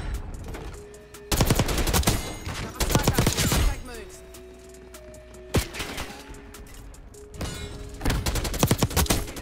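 Full-auto bursts from an AK74 assault rifle in Black Ops 6, several loud, close rattling volleys separated by short gaps, with game tones and a voice underneath.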